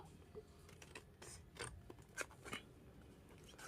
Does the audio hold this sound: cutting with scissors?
yes